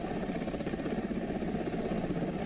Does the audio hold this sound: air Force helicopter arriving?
yes